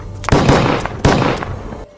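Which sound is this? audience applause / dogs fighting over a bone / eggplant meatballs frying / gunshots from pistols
gunshots from pistols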